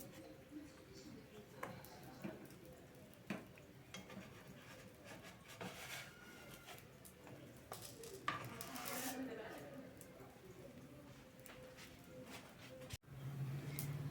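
Stuffed mini potato pieces turned in a frying pan, soft scraping, clinks and rubbing of a utensil against the pan over a low background hiss, quiet and close, with faint voices at times.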